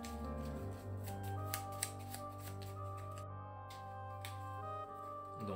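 A deck of cards being shuffled in a card game, a soft riffling and rustling that runs continuously under a steady humming background, faint and close.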